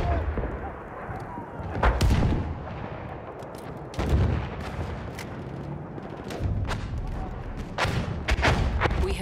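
Battlefield 1 battle with heavy booms and gunfire, deep artillery thumps at intervals over a continuous rumble of distant shooting and crackling shots.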